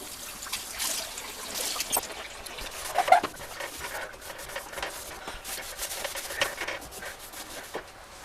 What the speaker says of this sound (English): rinse off the washcloth